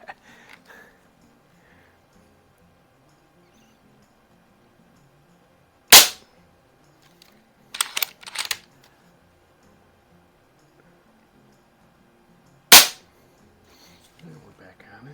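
Umarex Zelos air pistol fired over a chronograph, a few sharp isolated shots spaced seconds apart, loud and close, with a quick double burst in the middle and quiet stretches between.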